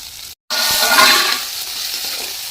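Pounded onion, ginger and garlic paste sautés in a pan for a curry, a loud, close sizzle that starts after a brief silent gap, swells, then eases to a steady hiss.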